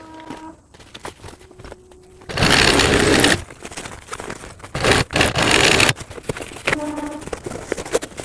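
A home sewing machine stitches fabric pieces for a child's school bag, running in loud, rapid mechanical bursts: one long run, then several shorter start-stop bursts, with quiet handling between.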